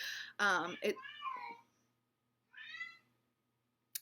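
A house cat meows repeatedly close by in a quiet indoor room, several short insistent cries in a quick burst followed after a pause by another plaintive meow, with no talk over them.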